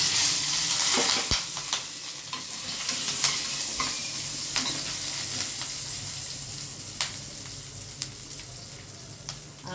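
Spices sizzle and crackle in hot oil during a vaghar tempering for a Gujarati kantola shaak, a steady frying hiss running alone with scattered sharp pops and the occasional clink of a spoon stirring.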